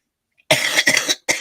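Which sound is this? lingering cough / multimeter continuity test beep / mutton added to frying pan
lingering cough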